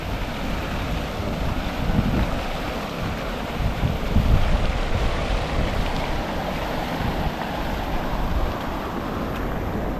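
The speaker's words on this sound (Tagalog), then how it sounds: "Medyo mahina po ang boses dito kasi malakas yung tunog ng pool" Steady, loud rushing water roars throughout, a dense wash of noise with no voices, from a waterfall pouring into a pool nearby in Taiwan.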